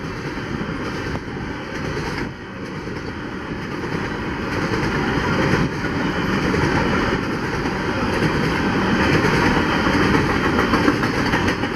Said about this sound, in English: Well, there went a flat wheel. There goes some more flat wheels.